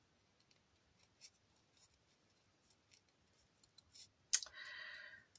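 Scissors snip out a small house shape from recycled material for a homemade Halloween decoration: quiet, scattered close clicks, then a sharper cut followed by a brief rustle.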